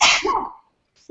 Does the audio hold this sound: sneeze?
yes